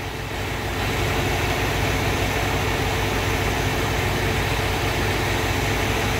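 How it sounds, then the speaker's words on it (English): A semi truck engine at low idle in -30 degree cold, a loud, steady diesel rumble that drones on without change. "That's the semi at low idle."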